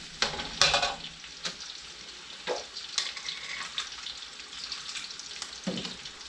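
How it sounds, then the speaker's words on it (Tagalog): Onions fried in a pan and stirred until golden brown, with a steady low sizzle and scattered scraping strokes of a utensil against the pan, close and moderately quiet, no voices. "haluin lang natin hanggang sa mag-golden brown"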